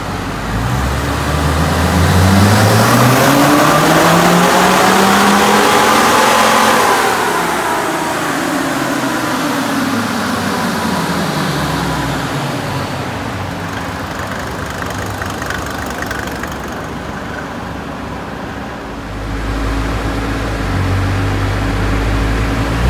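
A Mercedes OM605 diesel engine swapped into a Land Rover Discovery roars through a dyno pull, rising in pitch as revs climb, then dropping back and settling to a steady drone before a final low rumble.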